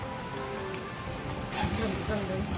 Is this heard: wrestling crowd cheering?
no